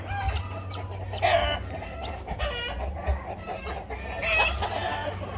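Chickens cluck and squawk nearby in intermittent bursts, with a rooster-like call among them over a low background hum.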